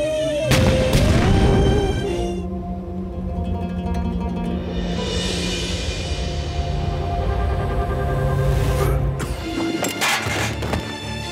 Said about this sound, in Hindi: उस जगह को फौरी तौर पर बम से उड़ा दिया जाए।